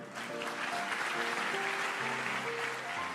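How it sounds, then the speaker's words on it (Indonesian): A church congregation applauds steadily at a moderate distance, a dense wash of clapping under sustained organ or keyboard chords, fairly quiet and continuous throughout. "Yang percaya kasih tepuk tangan untuk Tuhan."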